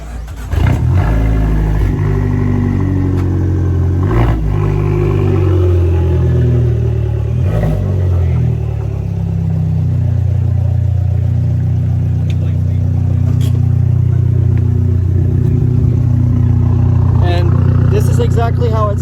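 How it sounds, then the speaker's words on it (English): Fiat 500 Abarth exhaust: a deep, throaty engine note rumbling close by, with a few revving surges early on and a steady roar throughout, accompanied by some clatter and occasional background voices. "we get the actual sound of his exhaust on film"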